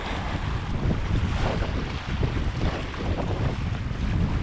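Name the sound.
strong wind and whitecap waves on a lake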